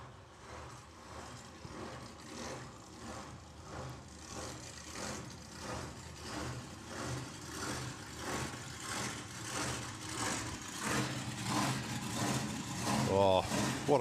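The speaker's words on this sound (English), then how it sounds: "we can hear Bob's car fired up around the corner" A drag racing car's engine runs around the corner at a drag strip during a nationals meet, a low, throbbing idle with a rhythmic lope that grows slightly louder toward the end, heard at a distance under faint background noise.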